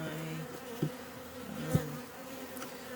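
Honeybees at a hive entrance fitted with an entrance reducer make a steady, low hum, quiet and continuous, with a couple of louder bees passing briefly close by.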